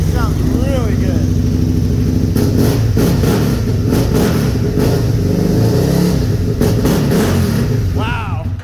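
Aprilia Futura RST1000 motorcycle from 2001 with a new H-pipe exhaust, revving loudly and close in repeated rising throttle blips over a steady idle rumble, with people talking alongside.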